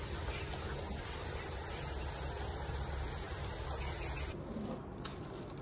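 Rain falls steadily on a rainy morning in Singapore, a soft, continuous hiss that stays even and fairly faint throughout, with a brief change in texture near the end.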